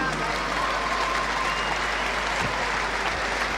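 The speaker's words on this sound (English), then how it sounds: "Give a nice round of applause." A boxing crowd at a 1992 professional bout between Naseem Hamed and Shaun Norman gives continuous, even applause that stays steady and full throughout.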